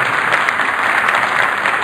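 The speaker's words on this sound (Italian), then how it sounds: "Vi salutiamo con un applauso" Steady applause from an audience at a municipal police corps celebration in Nardò, dense and even throughout with no voices above it.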